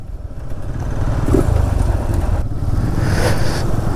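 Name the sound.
motorcycle riding up a hill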